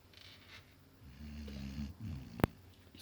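Dog snoring close by, a low rumbling snore that grows louder through the middle and ends in a sharp snort, with no voices.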